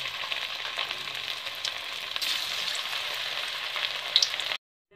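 Aloo kofta balls frying in hot oil, a steady close crackling sizzle with a few brighter pops near the end before it stops suddenly.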